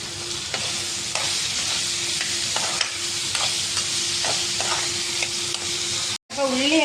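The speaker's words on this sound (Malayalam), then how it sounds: "ഇത്തിരി ഉപ്പും കൂടെ ഇട്ട് കൊടുക്കാം ഉപ്പിട്ട് കൊടുത്താൽ വേഗം വഴന്ന് കിട്ടും" Onions and salt sautéing in a pan for duck curry, a loud, close, steady sizzle with regular scraping stir strokes and a short break near the end.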